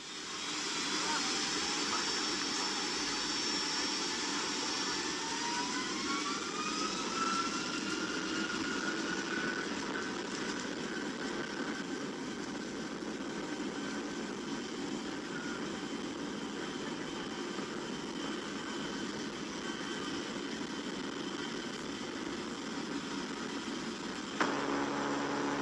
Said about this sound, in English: A passenger seated near the right engine decided to record as the plane kicked into high gear